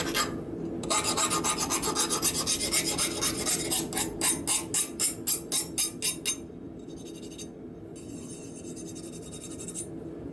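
A steel file rasped across the edge of a freshly quenched, untempered forged knife blade: a rapid series of close, bright, high-pitched scraping strokes, quickening into rhythmic rasps, then a few slower drags, with no speech.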